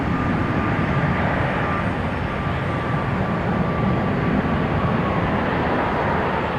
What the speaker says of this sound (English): United from San Francisco touching down.